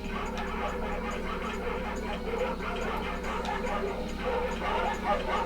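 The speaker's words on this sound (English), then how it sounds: "dogs barking at us." Several dogs bark and yip continuously in Ratchet and Clank, a busy, fairly distant chorus blended into dense game ambience and music.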